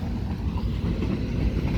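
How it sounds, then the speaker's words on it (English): Long freight train rolling past, a steady low rumble of rail cars filling the air with constant broadband noise and no breaks. "It's a nice long train."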